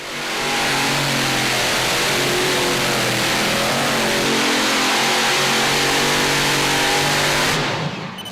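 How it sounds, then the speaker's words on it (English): A super modified pulling tractor at a Lucas Oil Pro Pulling League event roars loud and steady under heavy load for about seven seconds, then cuts off sharply at the end of the pull. "When you think about how much horsepower is on that tractor, and to watch it get lugged down, absolutely amazing."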